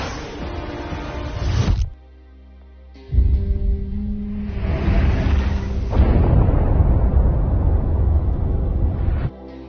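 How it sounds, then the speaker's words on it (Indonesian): Deep, rumbling missile explosions roll out in long bursts, separated by a brief quiet gap, loud and sustained like big blasts in an action scene, over the East China Sea. "Rudal itu pun meledak bersamaan dengan rudal milik Amerika Serikat dan juga Jepang"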